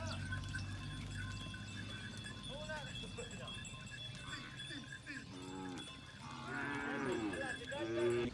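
Cows lowing on a morning farm visit, several moos rising over steady outdoor background noise with some talk and animal movement nearby.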